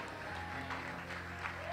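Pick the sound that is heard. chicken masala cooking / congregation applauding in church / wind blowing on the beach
congregation applauding in church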